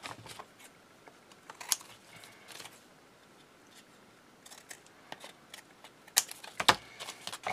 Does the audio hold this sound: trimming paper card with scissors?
yes